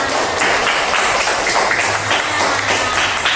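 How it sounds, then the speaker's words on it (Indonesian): A class of students claps together in a classroom, a steady, dense patter of many hands kept up evenly from start to finish with no talking. "Tepuk tangan"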